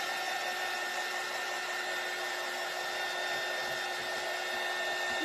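A hair dryer blows steadily at close range, drying a piece from a Love is in the Air craft kit, its even whirring hum running unbroken and loud throughout, with no voices.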